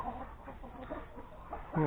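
Chickens clucking softly in a steady murmur, with a louder squawk bursting out at the very end.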